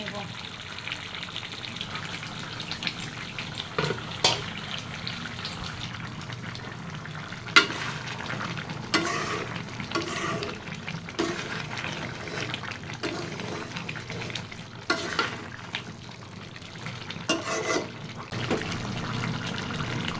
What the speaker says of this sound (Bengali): ঢাকনা না দিয়ে এইভাবেই ভালো করে মাংসটা কষায়